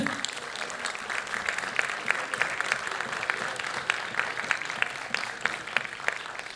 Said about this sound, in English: they get a louder applause than probably the next team